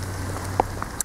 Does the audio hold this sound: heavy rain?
yes